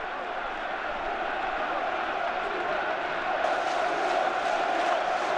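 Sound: football fans in the stadium shouting a player's name

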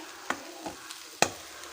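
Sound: onions and ground masala frying in pan for green gram sambar

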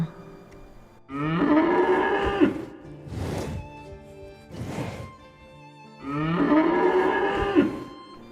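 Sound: water buffalo bellowing, sound effect

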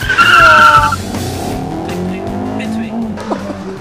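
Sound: race car accelerating at full throttle and skidding

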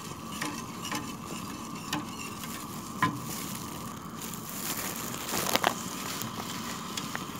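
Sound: stirring hot chocolate milk in a pot

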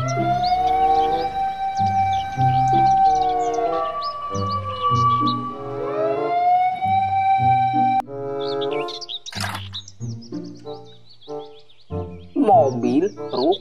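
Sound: toy fire truck siren

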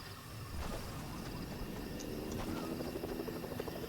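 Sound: helicopter flying in a video game

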